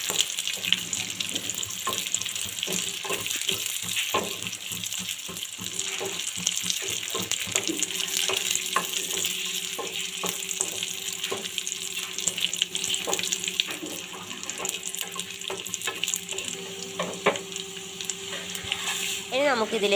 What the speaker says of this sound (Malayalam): നെയ്യ് ചൂടായി വരുമ്പോൾ നമുക്ക് അതിലേക്ക് അണ്ടിപ്പരിപ്പും മുന്തിരിയും ഇട്ട് കൊടുക്കാം.